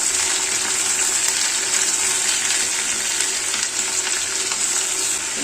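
Steady close sizzling and frying as chopped onion and tomato cook in a hot pan for Kerala-style tomato curry, a bright continuous hiss with faint scraping from stirring and no talking.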